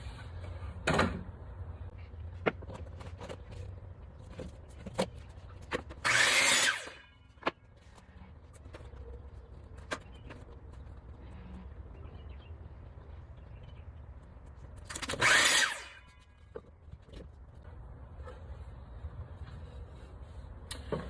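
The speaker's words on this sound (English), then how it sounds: "I got my pocket screws in there. I'm just gonna sink in." A power drill drives pocket screws into a wooden drawer panel in two short, whirring bursts several seconds apart, surrounded by quieter workshop clicks and light handling noises.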